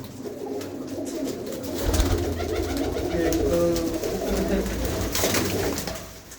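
Pigeons kept in a loft coo steadily and overlapping throughout, a dense, soft burbling chorus with a low rumble underneath and no clear talk.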